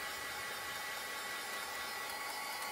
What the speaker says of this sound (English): This doesn't take long when you use your dryer to do it.